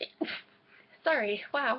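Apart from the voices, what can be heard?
sneeze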